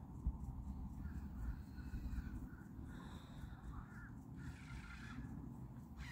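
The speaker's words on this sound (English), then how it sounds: "I hear you, Crow. I hear you." Faint crow caws sound repeatedly in the distance over a low outdoor rumble, several harsh calls spread across the stretch.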